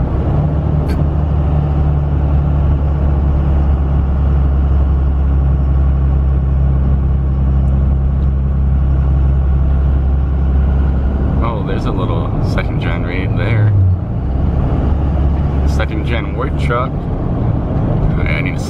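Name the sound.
Second Gen Cummins diesel truck engine rumble and turbo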